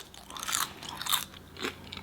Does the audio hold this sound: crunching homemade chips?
yes